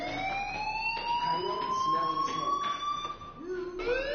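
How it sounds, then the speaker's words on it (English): Fire alarm in the video game Life is Strange, a continuous rising electronic whoop sweeping upward in pitch and looping, loud and steady, with characters talking over it. "Hey, do you hear that fire alarm?"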